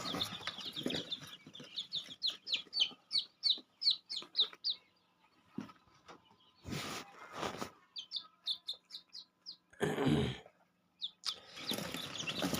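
Domestic chicken chicks cheeping while held in the hand, with quail chicks close by; quick runs of high, shrill peeps come in bursts with short pauses, mixed with a few soft rustles and handling thumps.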